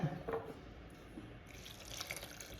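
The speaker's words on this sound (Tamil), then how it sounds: "அதுக்கப்புறம் கொஞ்சம் தண்ணி சேர்த்திக்கலாம்" Water poured into a pressure cooker holding dal and banana flower, a steady splashing trickle running throughout at low level with no talk.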